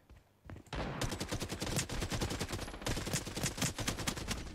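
Video game gunfire: rapid bursts of automatic fire start after a brief quiet moment and continue loud and dense to the end, with a short pause midway.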